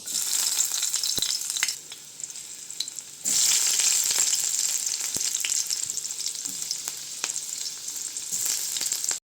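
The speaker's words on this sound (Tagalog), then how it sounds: "Onion, garlic, and ginger. Ayan na. Magigisa na tayo." Chopped onion, garlic and ginger sizzle steadily in hot oil in a pan, a bright continuous frying hiss that surges louder partway through, punctuated by scattered clinks and scrapes of a utensil stirring.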